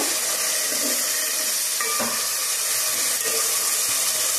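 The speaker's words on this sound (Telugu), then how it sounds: "ఇవన్నీ ఈ విధంగా అయితే ఉడుకుతూ ఉన్నాయి." Tomatoes and chicken bubble in a pot for gongura chicken, a steady hissing, simmering wash with a few soft pops and bubbles, continuous and fairly loud, with no talking.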